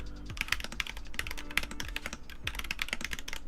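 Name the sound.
slamming keys on NK65 mechanical keyboard with tactile switches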